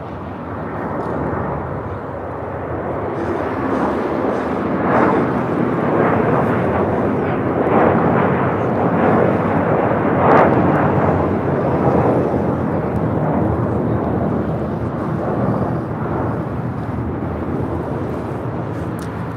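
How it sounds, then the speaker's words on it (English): A SAS Airbus A330-300 takes off at LAX as flight 932 bound for Copenhagen, its engines a loud, broad roar that swells and holds steady at a distance. "This takeoff is SAS 932 taking off to Copenhagen on the A330-300."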